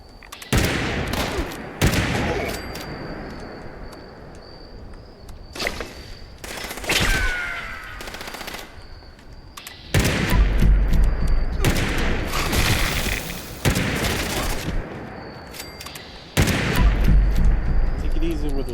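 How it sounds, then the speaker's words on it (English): Gunfire in the video game Fallout 76, bursts of loud shots in rapid clusters with short pauses between, heavier sustained volleys later, a voice speaking briefly between them. "Take it easy with those shots, man."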